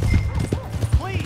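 A horse's hooves clip-clop in quick, close steps in the Western video game Red Dead Redemption 2, with a voice talking over the hoofbeats.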